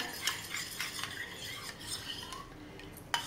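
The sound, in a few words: stirring cornflour mixture into milk for basundi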